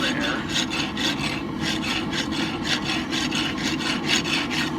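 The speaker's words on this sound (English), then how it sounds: "we're going to give hot rasping this bevel a go." A rasp drawn repeatedly across the hot steel bevel of a hand-forged knife clamped in a vise, making a loud, continuous gritty scraping with a steady back-and-forth rhythm, close up and with no voices.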